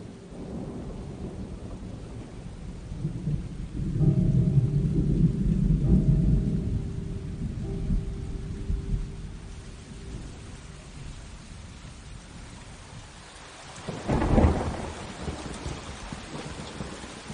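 Heavy rain pours steadily as a dense wash of noise, swelling louder for a few seconds, with one sharp, booming thunderclap near the end. Nobody speaks.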